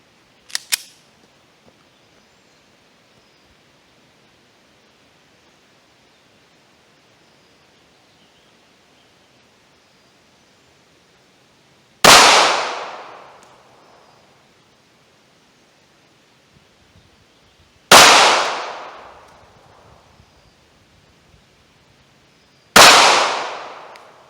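Three loud, sharp gunshots from a Ruger LCP pocket pistol firing Remington Golden Saber 102-grain .380 ACP rounds at an outdoor range, spaced several seconds apart with brief decaying echoes, preceded by a faint click.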